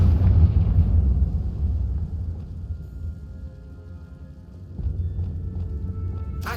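Confringo fire spell blasting in the Hogwarts Legacy game: a loud booming burst at the start that rumbles on and fades, with a second smaller impact near the end.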